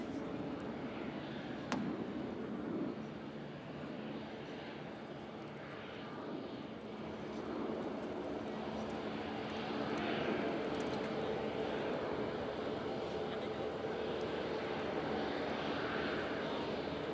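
An Airbus A350 XWB rolls along the runway after landing on its first flight, its jet engines giving a distant, steady roar that swells slightly over time, with faint crowd murmur in the background.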